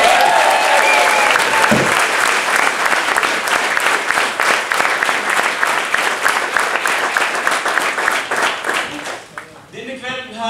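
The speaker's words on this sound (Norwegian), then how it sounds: "Gi han en stor applaus." A concert audience applauds loudly and steadily at a musical evening, dense clapping filling the room for about nine seconds before thinning out, with some talk and music creeping in at the end.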